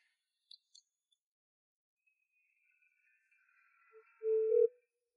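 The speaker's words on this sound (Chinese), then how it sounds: "给小月打个电话" After near silence and a couple of faint clicks, a phone line gives a single clear ringback tone for an unanswered call, short and steady, with no voices.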